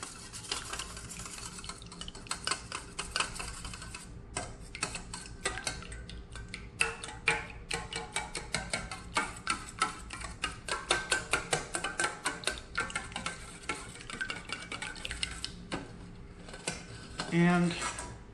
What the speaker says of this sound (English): Then here's our 2 eggs. And we'll give this a whisk.